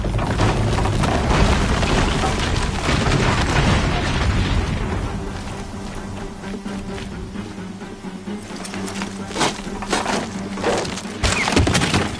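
A cannon fires in the video game Horizon Zero Dawn, with heavy booming blasts and crackling, splintering debris in a dense, loud battle mix, easing briefly midway before more sharp impacts return.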